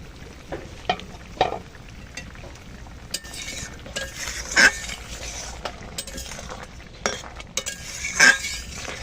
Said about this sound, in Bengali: একটু ঢাকা দিয়ে দিচ্ছি, ঢাকটা তুলে দিচ্ছি।